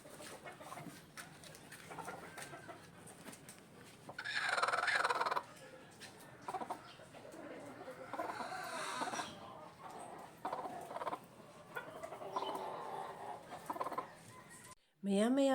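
A game fowl hen at her nest on a breeding farm gives soft intermittent clucks and low calls, with louder bursts of fowl noise at times and someone talking quietly in the background.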